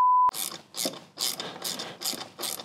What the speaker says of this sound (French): Je suis en train de visser la pompe à eau dans un trou qui n'existe pas